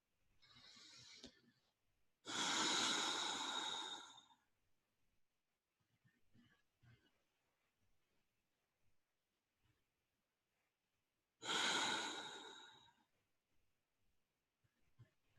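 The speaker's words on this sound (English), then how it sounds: "So now take a few deep, slow breaths." Slow, deep breaths drawn in and let out during a guided relaxation, two long airy exhalations a few seconds each separated by quiet stillness with faint small sounds.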